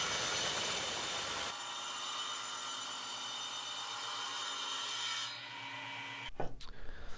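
A power saw guided along a fence cuts through wood for a garage wall shelf, giving a loud steady whirring cut with a humming motor, then it stops and a few clattering knocks follow.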